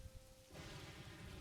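Rain and thunder from a storm in The Elder Scrolls Online: Necrom, at first faint, then swelling halfway into a dense wash of rainfall with low rumbling. The sound is steady and ambient, with no voices.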